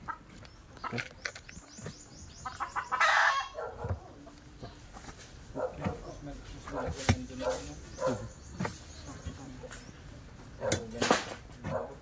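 Chickens clucking on and off at moderate distance, with scattered short squawks and other barnyard noises throughout.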